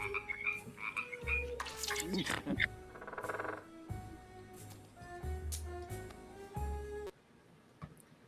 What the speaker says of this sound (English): What's the frogs?